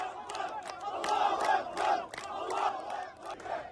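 An emotional street crowd parades a suspect's body, with rising and falling massed shouting and chanting voices, loud and agitated, continuing over several seconds.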